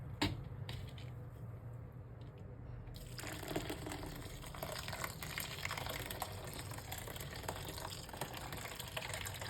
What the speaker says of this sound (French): Je vais verser dessus 1 litre d'eau bouillante